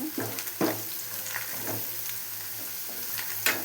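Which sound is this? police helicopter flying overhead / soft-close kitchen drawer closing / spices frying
spices frying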